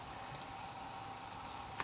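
A single sharp mouse click near the end, faint and close, sounding over a steady low hum while playing Command and Conquer.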